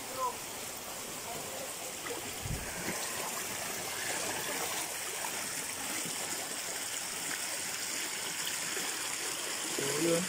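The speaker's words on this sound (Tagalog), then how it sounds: "natural talaga tubig yan, umagos dito" A clear natural mountain stream flows and trickles steadily nearby, a soft continuous wash of water with a brief bump partway through.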